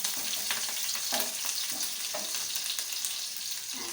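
Cumin and chopped red chili sizzling in hot oil in a pan, a dense, continuous crackle with occasional stirring scrapes.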